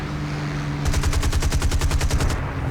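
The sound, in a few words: Hurricane fighter plane machine gun fire, from a video game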